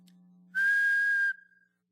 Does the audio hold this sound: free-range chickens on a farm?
no